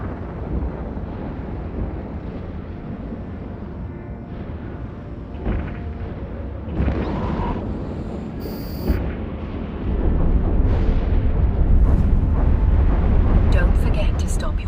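Ship weapons fire and explosions in EVE Online combat come as a steady roar of rumbling blasts, swelling louder toward the end, while a voice talks over them.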